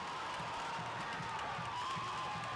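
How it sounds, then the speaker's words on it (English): Crowd at a college soccer match, an NCAA tournament first-round game between Charlotte and High Point, cheering after a goalkeeper's save: a broad, steady wash of distant cheering and clapping. "I just wanted to let the crowd be heard because they absolutely loved it"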